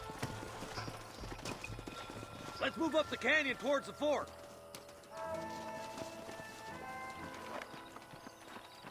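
Horses' hooves clip-clop unhurriedly on the ground in a canyon, with a horse whinnying and snorting midway while someone speaks over the hoofbeats.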